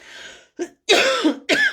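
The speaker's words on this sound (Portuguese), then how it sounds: "Na hora que começou a tossir" A few harsh, close coughs and throat-clearing bursts in quick succession, loud and raspy with short gaps between them.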